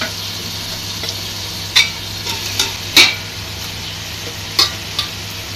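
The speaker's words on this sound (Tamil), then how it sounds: "சிக்கனை போட்டு நல்லா ஒரு பேட்டு விட்டுடலாம்." Chicken fries in masala with a steady low sizzle, while a few sharp, separate clinks and scrapes from stirring cut through at intervals.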